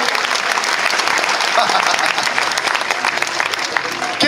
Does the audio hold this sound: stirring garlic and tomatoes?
no